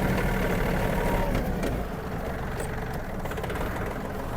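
A Yanmar RS-27 mini tractor engine running on asphalt, a steady, close, low diesel drone with a rough knocking texture that drops slightly in level partway through.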